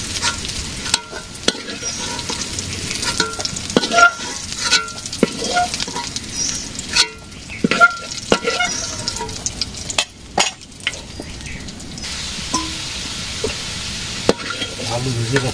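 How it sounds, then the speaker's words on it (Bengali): Potatoes frying in a home kitchen pan: a continuous close sizzle broken by scraping and stirring clatters and a few spatula knocks, with no talk. "আলু ভেজে রাখছি, ভেজে রাখলাম"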